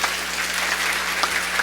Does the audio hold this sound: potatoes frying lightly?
no